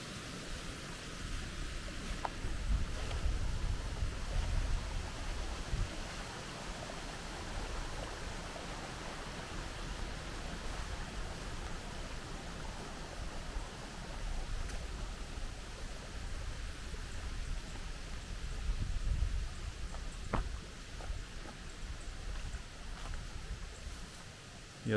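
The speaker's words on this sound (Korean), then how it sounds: "옆에는 물이 아주 칼칼칼칼 시끄럽게 내려가고 있네요" Water rushes loudly and continuously beside an abandoned old coal mine tunnel, a steady broadband roar of flowing water throughout, with no voices.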